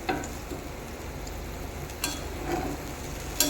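Cabbage curry gravy with boras (fried dumplings) simmering in a pan, a steady close bubbling and sizzling hiss with a couple of soft stirring knocks, no voices.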